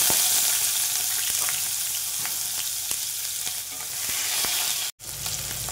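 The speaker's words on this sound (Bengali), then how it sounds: "তেলটা গরম হলে এর মধ্যে পেঁয়াজ কুচি আর টমেটোটা দিয়ে দেবো।" Chopped onion and tomato hiss and crackle in a little hot oil, a loud, close, continuous sizzle with scattered pops, briefly interrupted by a short dropout near the end.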